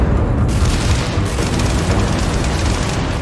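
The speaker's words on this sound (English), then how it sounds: "different ammunition like explosive rounds" Explosive rounds fired from a customizable gun in the sci-fi game Starfield, a loud, dense, continuous barrage of booming blasts and crackling impacts packed together without pause, with no talking.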